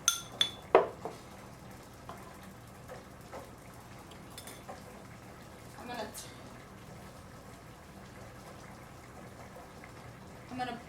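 A metal spoon clinks against dishes while being cleaned in a kitchen during homemade camphor vaporizer preparation, with three sharp clatters at the start and faint scattered taps over a low steady background.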